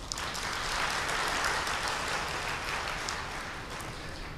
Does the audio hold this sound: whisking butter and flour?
no